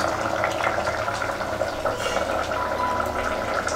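Thick Tamil veg mutton kulambu with drumsticks simmering in a pot, giving a steady close bubbling and hissing boil that runs throughout without talk.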